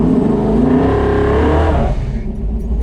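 A car engine with a 4500-rpm high-stall torque converter revs hard and holds high during a stall check, loud and close, then the revs drop away toward the end.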